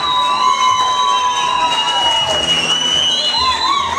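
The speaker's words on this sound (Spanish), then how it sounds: "un aplauso para el Fer." A crowd at a live rock show cheers and shouts for a performer, a loud, dense and continuous mass of excited voices with some whistling, close and sustained throughout.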